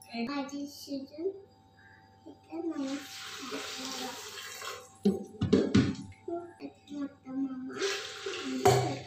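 Water pours into a pressure cooker pot in two gushing bursts, with someone talking between and around them and a few clanks of cookware.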